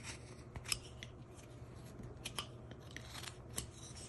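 A knife carving a small wood figure by hand, whittling a pyramid-shaped cut, makes a few soft, faint scraping and slicing sounds spread over low background rumble.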